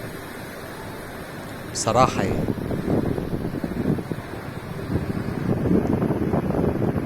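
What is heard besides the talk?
sea waves at a Brazilian beach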